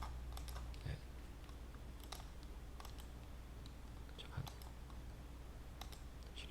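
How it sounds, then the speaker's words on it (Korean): Quiet clicking of computer keyboard keys while a Command-A shortcut is pressed in photo editing software, with soft irregular taps spread across the clip and a faint steady background hum. "한꺼번에 커맨드 A를 눌러서 그냥 단순히 커맨드 A를 눌러서"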